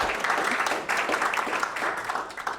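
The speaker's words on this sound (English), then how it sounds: "round of applause" An awards ceremony audience applauds, a dense, steady burst of clapping for a little under three seconds with no voices over it.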